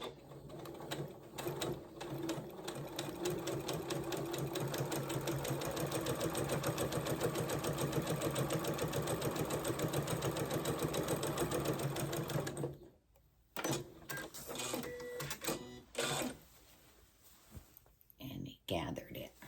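A sewing machine runs steadily for about twelve seconds, stitching a New Look 6284 pattern piece with a fast even motor whir and needle clatter, then stops and gives a few short bursts.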